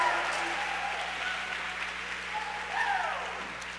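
Audience applause at a university life raft debate, a steady broad wash of clapping under a hum, with faint voices and whoops rising near the end.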